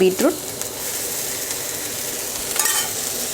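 Onion sautéing in a pan with oil, dried red chillies and curry leaves, a soft, fairly quiet sizzle running steadily with a few brief stirring scrapes near the start and end.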